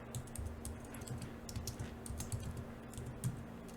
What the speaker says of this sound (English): just type it exactly how I'm typing it